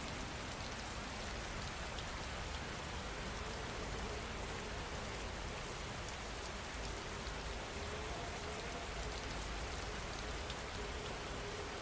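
Steady heavy rain falls late at night, a dense continuous hiss of drops on surfaces with no pauses, evenly loud throughout and free of voices.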